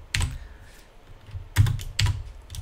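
Sparse keystrokes on a computer keyboard typing a short entry. There are three or four crisp, close clicks, one near the start and a pair near the end, with no one talking.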